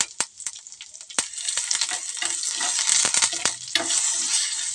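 Dried red chilli and curry leaves sizzle and crackle in hot oil in a pan for a tempering, with dense continuous spitting and sharp pops throughout, close and fairly loud, no voices.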